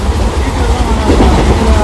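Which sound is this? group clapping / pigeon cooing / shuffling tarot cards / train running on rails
train running on rails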